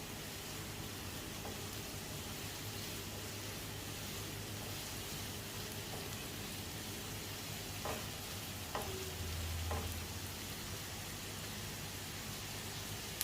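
Curry leaves frying and stirred in a pan while making rava upma, a steady low sizzle with a few soft clicks of the spoon against the pan and no talking.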